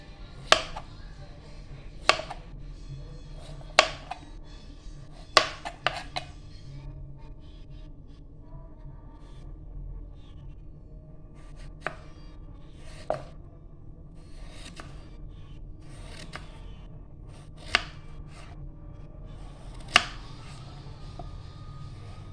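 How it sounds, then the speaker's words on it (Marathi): A potato sliced with a knife on a board, sharp isolated chops spaced a second or more apart, close and clear over a quiet background with a faint low hum. "तसंच दुसरा एक बटाटा आपण कापून घेऊया"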